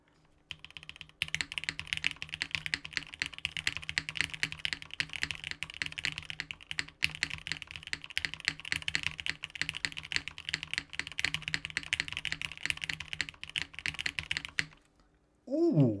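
Continuous brisk typing on a tenkeyless mechanical keyboard fitted with PBT keycaps, a dense clatter of keystrokes with a faint low hum beneath, stopping shortly before the end.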